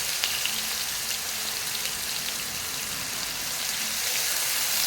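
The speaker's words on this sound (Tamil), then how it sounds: "இந்த வெங்காய விழுதும் அந்த இஞ்சி பூண்டு பேஸ்ட்டும் சேர்ந்து ஒன்றா நல்லா வதங்கட்டும்" Ground onion paste and ginger-garlic paste sauté in hot oil in a pan, giving a steady, close hiss and crackle of sizzling that runs evenly throughout without talk.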